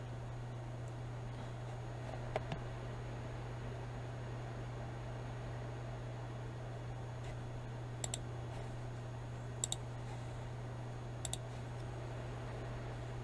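Computer mouse clicks sound as a few sharp, faint taps, single and doubled, spaced several seconds apart over a steady low electrical hum and background hiss.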